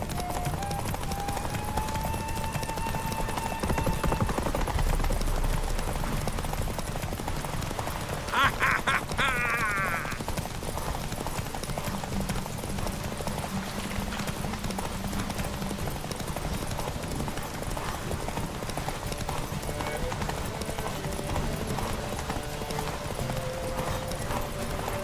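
Hoofbeats of Roach, the horse in The Witcher 3, clatter in a steady fast gallop rhythm throughout, close and continuous, with a brief burst of other game noise partway through and no talk.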